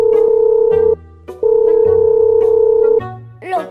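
A telephone call goes unanswered: a loud, steady ringback tone sounds in two long bursts with a gap between them, over low background music, ending with a brief squeaky cartoon-like sound.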